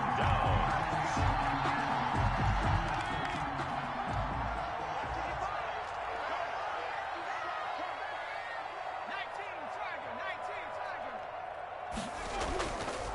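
A stadium crowd at a Bengals versus Cowboys football game roars and cheers steadily, a broad continuous wash of noise under a commentator's voice.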